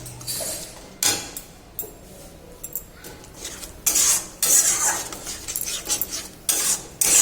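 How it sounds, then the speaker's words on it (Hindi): A spoon stirs beaten egg into potato masala in a metal pan, with scraping and clinking strokes that come in uneven bursts and grow louder and busier in the second half. No one talks. "अंडा को भल भाव मिक्स करदे मसला रे"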